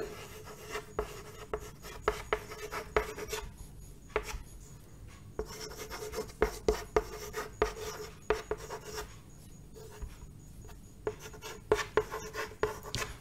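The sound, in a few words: writing a word by hand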